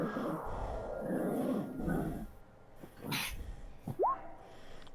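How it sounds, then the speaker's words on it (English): A dog growls low and rumbling at close range in a few uneven bursts, followed by a short high whine or yip near the end. "Sounds like a dog to me."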